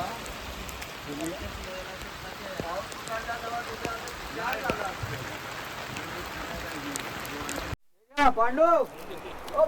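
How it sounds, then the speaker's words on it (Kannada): Steady rain patters on surfaces during a scenic ride from Mahabaleshwar past waterfalls, a continuous close hiss that breaks off briefly before a voice speaks. "ಮಳೆ ನಿಲ್ಲೋ ಥರ ಕಾಣ್ತಿಲ್ಲ, ಹೊರಡ್ಬಿಡೋಣ ಅಂತ"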